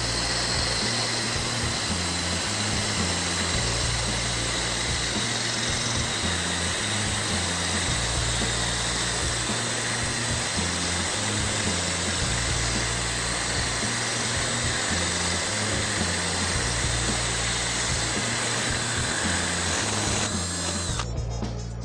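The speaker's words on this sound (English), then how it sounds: "we've drilled a hole through a bottle of wine" A diamond core drill bit bores through a glass wine bottle, giving a loud, steady whine with a constant grinding drone that runs unbroken for the whole stretch.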